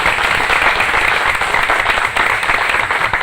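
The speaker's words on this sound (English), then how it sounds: "Yeah, clap for it. Clap for them." An audience claps at a school board of education meeting, a steady dense wash of applause that holds loud and even throughout the short stretch.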